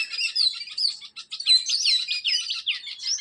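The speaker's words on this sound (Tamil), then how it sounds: "எல்லா விதமான குருவிகள் இருக்குது பார்த்தீங்கன்னா கலர் கலராக வந்து அணில் குருவி எல்லாம் வந்து ஒட்டுக்காக சவுண்டு விட்டு ஓவர் சவுண்டாக இருக்குது" Birds and squirrels in a tree giving a dense, loud stream of chirps and tweets, high twittering calls overlapping continuously with no pauses and no talking.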